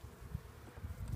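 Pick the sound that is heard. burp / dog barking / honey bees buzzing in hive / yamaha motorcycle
honey bees buzzing in hive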